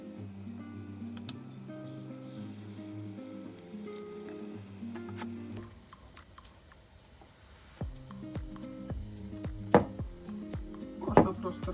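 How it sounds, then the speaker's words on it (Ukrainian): Battered meat or fish fries in a pan with a soft, steady sizzle, fairly quiet, joined later by small clicks and taps from the cookware. "продовжувати смажити"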